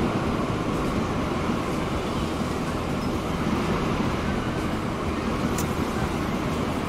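A train in Transport Fever 2 pulls into a station, a steady low rumble of wheels and running noise holding evenly throughout at moderate volume, with no talking over it.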